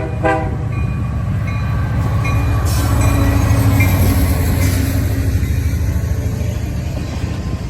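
CN A435 freight train, led by a single SD70i locomotive, rolls past close by. A horn blast opens over a loud, steady rumble of wheels and cars that continues throughout, with no talking.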